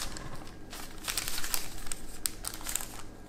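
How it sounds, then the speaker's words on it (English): Baking paper crinkles and rustles close up as it is tucked under a homemade Chinese steamed bun, a series of short crisp crackles with no talking. "put the baking paper"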